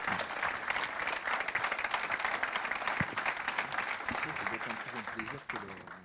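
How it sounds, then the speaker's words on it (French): Audience applauds steadily at a regional business awards ceremony as trophy winners Tubert Environnement are honored; dense, sustained clapping fills the room with a faint voice underneath. "On peut les applaudir également bien fort"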